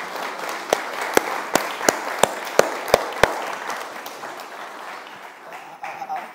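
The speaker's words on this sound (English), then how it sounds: "Can we just get a quick round of applause for all of the three previous speakers?" An audience at a conference talk claps in a steady round of applause, dense and fairly loud, with several sharp individual claps standing out before it tapers off.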